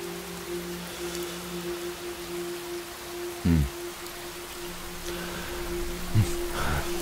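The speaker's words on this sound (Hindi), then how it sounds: "बारिश बढ़िया हो रही है।" Soft rain patters steadily in the background, with a low hum and a couple of brief bumps partway through.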